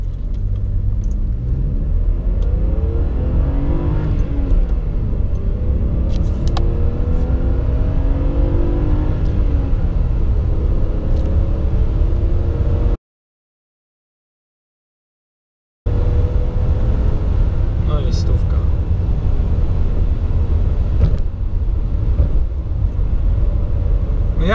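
A BMW E39 running on LPG pulls away, a low engine rumble rising through gears with whirring road noise, steady and close from inside the car, broken by a short silent gap.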